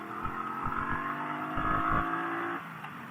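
Exhaust of a 2017 Triumph Bobber motorcycle revving up and holding a steady high-rpm drone for a couple of seconds before easing off, loud and close with a few low thumps underneath.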